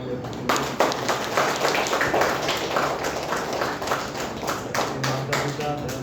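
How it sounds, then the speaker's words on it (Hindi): A church congregation claps together at a baptism Mass, with steady rapid hand claps spread across the whole stretch, moderately loud, with some room noise beneath. "एक बार ताली बजाएंगे।"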